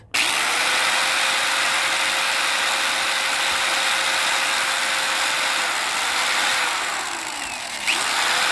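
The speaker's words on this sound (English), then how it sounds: "all I'm gonna do is I'm gonna hold it at an angle while I turn the bolt" Continuous high whirring of a tool turning a bolt on the rear wheel bearing of a 2010 Hyundai Sonata, a steady loud mechanical whine lasting about eight seconds with slight pitch shifts before it cuts off.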